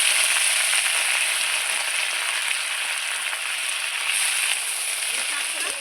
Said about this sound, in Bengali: আমার তেলটা গরম হয়ে গেছে, কাঁচা লঙ্কা চেরা দিয়ে দিচ্ছি, সঙ্গে একটু কালো জিরে দিয়ে দিলাম।